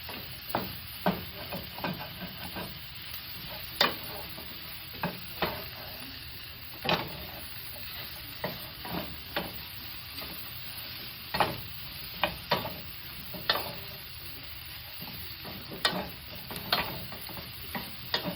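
Vegetables and bean sprouts stir-fry in a crowded pan with a constant sizzling hiss, broken by frequent sharp scrapes and taps as the food is tossed and stirred, heard up close with no talking.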